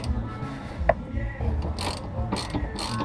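A ratchet loosens the subframe bolts on a car during a Whiteline Positive Traction kit install, giving a few short bursts of clicking that stand out over low background shop noise.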